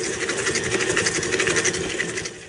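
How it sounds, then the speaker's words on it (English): A stand mixer fitted with a paddle creams room-temperature butter and sugar, its motor giving a steady, fairly loud whirring hum with a faint rhythmic churn that runs unbroken throughout, with no voices. "I'm using a stand-up mixer with a paddle, cream together until light and fluffy, room temperature butter"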